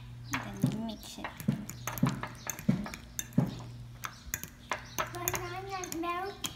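A spoon clinks and scrapes steadily against a bowl while banana is mashed and mixed with milk and sugar, the taps coming in a regular rhythm under a child's chatter and other voices.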